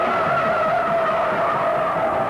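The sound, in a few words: Dodge Charger 500 tires skidding in four-wheel drift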